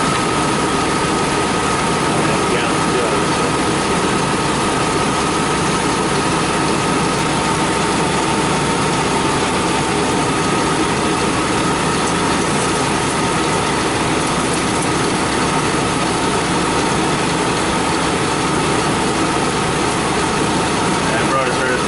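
A 1999 GMC Suburban engine idles in a steady, dense mechanical drone with a constant ticking whir, loud and unbroken throughout, with a voice speaking faintly beneath.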